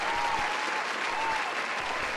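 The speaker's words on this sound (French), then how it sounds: "Vous pouvez vous applaudir." An audience breaks into steady, dense clapping, a continuous wash of many hands at moderate distance with no voices over it.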